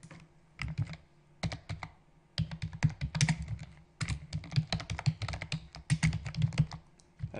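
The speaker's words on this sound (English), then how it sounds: "let me just start typing." Fast typing on a computer keyboard while entering a WordPress plugin name, with dense bursts of clicky keystrokes separated by brief pauses, close and alone without any talk.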